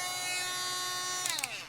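A DSPIAE electric reciprocating sander buzzes at a steady high-pitched whine, close and continuous, then briefly stutters and drops in pitch near the end.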